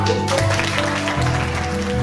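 Applause from diners at a Partido Popular party members' Christmas dinner in Cuacos de Yuste, steady dense clapping from a nearby crowd filling the whole moment.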